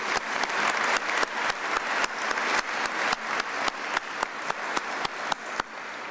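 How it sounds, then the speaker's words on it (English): Audience applause for a school principal at a community gathering: a steady crowd of claps with a few loud, close claps in a regular rhythm standing out, sustained without talk. "let us give her a round of applause"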